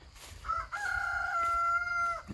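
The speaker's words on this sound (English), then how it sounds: "my rooster's playing a tune" A single rooster crows a long, drawn-out cock-a-doodle-doo, clear and moderately near, against quiet outdoor background.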